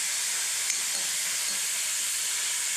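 Tomato paste sizzling in a frying pan for veg kothu parotta, a dense steady hiss of steam and frying heard up close, with no voices over it.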